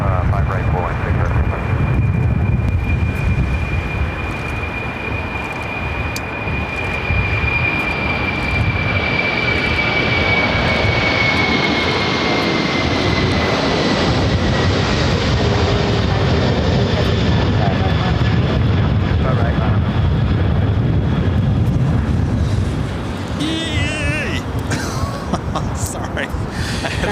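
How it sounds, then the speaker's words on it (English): An Atlas Air Boeing 747-400 freighter takes off at LAX, its jet engines roaring loud and steady for a long stretch with a rising whine, then fading as it climbs away, with some nearby chatter. "That was Atlas Air, flight 563, taking off to Zaragoza, Spain, on the 747-400 freighter."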